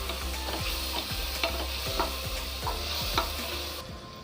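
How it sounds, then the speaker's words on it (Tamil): Ginger garlic paste with capsicum sizzles steadily in a pan, punctuated by regular scraping stirs of a utensil at close range, with no talking. "இஞ்சி பூண்டு பேஸ்ட்டோட பச்சை வாசம் போகிற வரைக்கும் நல்லா ஃப்ரை பண்ணிக்கோங்க"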